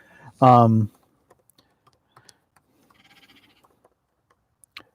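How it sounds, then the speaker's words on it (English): Soft, scattered clicks from a computer keyboard being typed on follow a brief voiced sound at the start, with taps coming in quiet, irregular bursts. "I'll type it in here."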